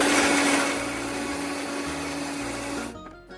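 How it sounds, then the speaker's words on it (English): A blender blending a cheesy sauce whirs steadily at high speed, loud and close, then cuts off abruptly near the end. "It's time to blend."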